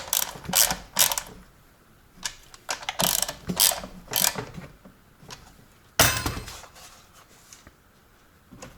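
On a $99 Amazon chainsaw, a wrench locks down the bar nuts in sharp bursts of ratcheting clicks and metallic clinks, close and irregular, with short pauses between strokes.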